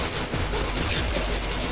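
Dense rapid gunfire in a shooter video game, a continuous crackling burst of shots, loud and close, with a voice faintly mixed in.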